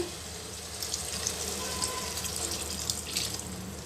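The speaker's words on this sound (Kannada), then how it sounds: "ಈಗ ಇದಕ್ಕೆ ಸ್ವಲ್ಪ ನೀರು ಹಾಕ್ತೀನಿ" Water runs steadily into a frying pan of soya curry, a continuous splashing pour with a faint sizzle underneath, close and moderately loud, with no talking.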